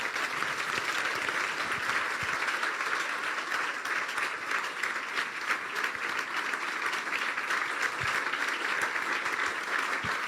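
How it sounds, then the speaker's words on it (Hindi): Sustained, steady applause from a church congregation during a Hindi sermon on Palm Sunday, dense clapping filling the room evenly for about ten seconds without a break. "यीशु के लिए जोरदार तालियां बजाएं"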